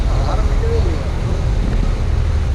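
Heavy road traffic on a busy highway near Tindivanam, a steady loud rumble of passing vehicles with wind buffeting the microphone, continuous throughout.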